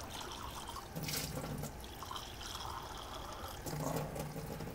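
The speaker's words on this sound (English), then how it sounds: "Rinse the glass a couple of times." Tap water from a Vesta H2 water ionizer runs and splashes into a glass during rinsing, a steady wet flow with a couple of louder swirling surges, with no voices.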